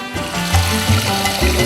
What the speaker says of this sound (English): We need to get a pan of water on to melt down the chocolate.